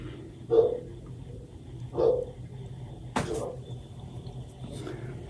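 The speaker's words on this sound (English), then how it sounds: "you hear the dog" A dog gives a few separate barks or yips, spaced well apart and muffled, somewhere indoors in the background.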